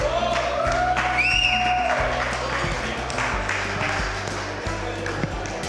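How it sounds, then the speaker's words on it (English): Audience at a Golf Heritage Society fireside chat at Latrobe Country Club gives a round of applause, moderate clapping under background hum and a few ringing tones, fairly close and sustained. "If we give Bob Muir a little round of applause."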